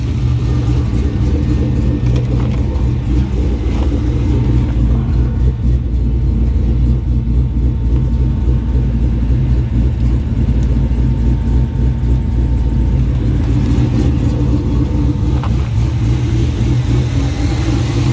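A 1969 Pontiac GTO engine idles steadily while warming up, a deep continuous close-up rumble at constant loudness for the whole stretch, with no talk over it.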